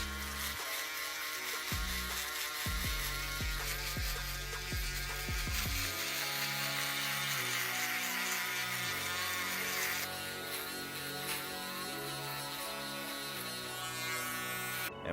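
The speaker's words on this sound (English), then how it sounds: "So I'm gonna take my shaver and I'm just gonna go over that and clean it up" An electric shaver buzzes steadily and close up as it goes over a beard to clean up stray hairs, with the motor tone shifting as it presses against the skin.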